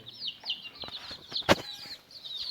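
Chickens and young chicks in a backyard coop give off a steady stream of high, quick peeping chirps. A single sharp knock sounds midway through, with no talking.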